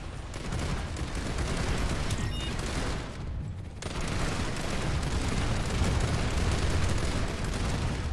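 An engineer's turret gun in Planetside 2 fires long sustained bursts, loud and continuous, breaking off briefly around the midpoint before hammering on steadily.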